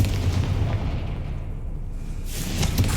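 The Confringo fire blast spell goes off in Hogwarts Legacy as a heavy booming explosion with a rumbling low end, followed by a bright whooshing burst near the end. The sound is loud and close, with no talk.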